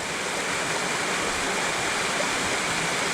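Waterfall in Muddy Creek Gorge, Pennsylvania, roaring steadily and loudly up close as a dense, unbroken rush of falling water, with no voices over it.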